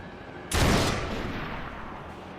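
A single loud gunshot from a sniper in the video game Max Payne 3 cracks out sharply, then trails into a decaying echo and low rumble.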